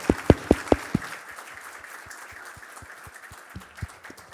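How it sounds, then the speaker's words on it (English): Sparse applause after a conference talk: a few loud, close hand claps at the start, then scattered fainter claps continuing in a thin rhythm. "Applause."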